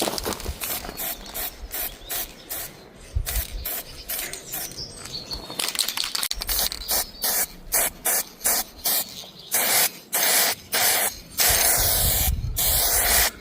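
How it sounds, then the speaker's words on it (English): Aerosol spray can used on a cottage stair grille and lock during restoration, giving a series of short, close hissing bursts in a steady stop-start rhythm with brief rattling between passes. "get the spray can out, just go around the outside"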